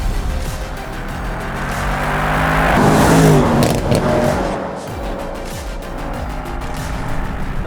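A 2021 Mercedes-AMG E 63 S with its V8 accelerating hard, a loud continuous engine roar rising in pitch and swelling to a peak before settling into a steady high-speed drone.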